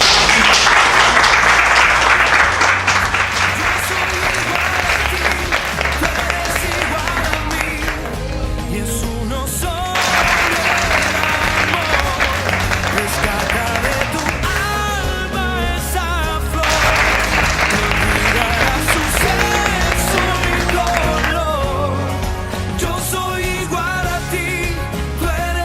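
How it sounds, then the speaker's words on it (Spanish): An audience at an education conference applauds in long, steady waves of dense clapping, blended with loud music playing throughout. "Bueno, un aplauso para ustedes."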